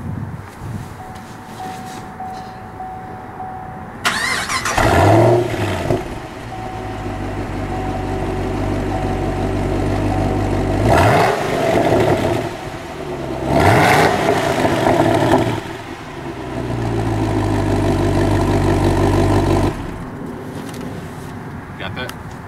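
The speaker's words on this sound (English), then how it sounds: "I want to start this car up because it sounds amazing." A 2015 Chevrolet SS engine cranks and fires up, then revs loudly several times between stretches of deep idle, close by, with some wind noise.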